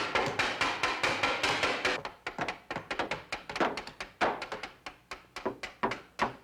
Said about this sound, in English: take your hammer and go knock that box apart